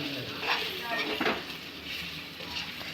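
Chicken liver fry is stirred in a pan, a close, busy sizzle with soft scraping and clinks of a utensil against the pan over a few seconds, with no clear talking.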